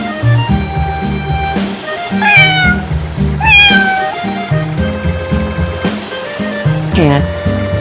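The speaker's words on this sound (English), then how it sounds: "Cat." A domestic farm cat meows several times, loud and close, with rising and falling calls over a steady musical backing.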